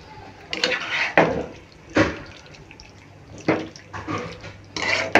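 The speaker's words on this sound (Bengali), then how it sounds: "এটা আমি একটু মিক্স করে নিব।" A spoon stirs blended nut paste into biryani in a pot, with irregular scraping and clinking strikes against the metal spaced a second or so apart over a faint background hum.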